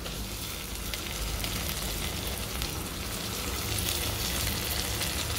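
Finely chopped tomato fries in a dal tadka masala with a loud, continuous rain-like sizzle and crackle, heard close up with no speech.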